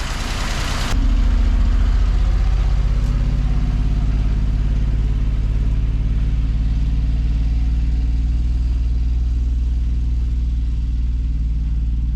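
A fire truck's engine idles smoothly and loudly close by after a vacuum leak was fixed, a steady deep rumble with a constant low throb and no talking.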